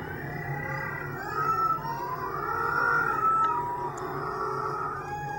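Flying fox growls and other recorded animal calls overlap in a wavering, howling chorus with rising and falling cries, fairly faint and continuous.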